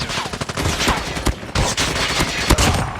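Gunfire in the Call of Duty video game, with dense rapid bursts of automatic shots and loud close cracks going on throughout.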